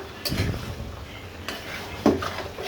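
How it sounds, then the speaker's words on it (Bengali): A lid set down on a cooking pot on a stove, heard as a few distinct metallic clinks and clatters spaced over a couple of seconds against a quiet kitchen background. "ঢাকনা দিয়ে ঢেকে আমি চুলাটা বন্ধ করে দিচ্ছি"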